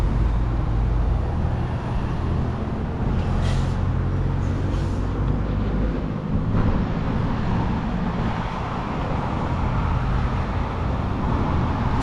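Constant highway traffic roars nearby on Route 127 during a long yard sale, a dense rumbling wash of passing vehicles with occasional higher hissing swells.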